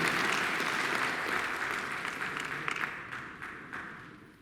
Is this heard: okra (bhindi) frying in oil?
no